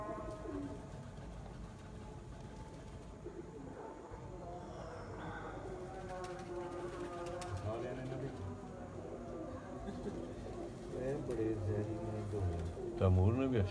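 Pigeons cooing in soft, low, repeated rolling calls while perched, heard under nearby conversation in a Punjabi setting among a champion pigeon keeper's flock.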